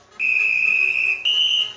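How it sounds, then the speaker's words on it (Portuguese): A single sustained shrill referee's whistle blast, loud and steady, briefly breaking and resuming at a slightly higher pitch before fading out. "com apito do juiz"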